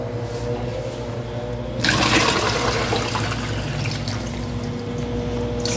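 Water pouring and draining off soaked eggplant slices being strained for an eggplant lasagna, a sudden gush of splashing after a quiet start that keeps running steadily.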